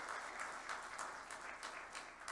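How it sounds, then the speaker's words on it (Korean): An audience applauds three missionaries at a church anniversary gathering, a steady, fairly faint wash of clapping from many hands with no voices. "다시 한번 수고해 주신 우리 세 분의 선교사님들께 박수 부탁드리겠습니다"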